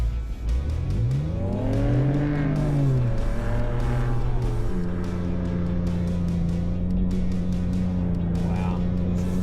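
A Ford Raptor truck revs hard while climbing a big sand dune, the engine note sweeping up and down before settling into a steady loud drone, with people talking over it.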